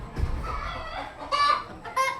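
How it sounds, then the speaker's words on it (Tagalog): Several chickens cluck and squawk nearby, with a couple of louder drawn-out calls near the end over a low rustling background. "Kasi rinig nyo, maraming manok."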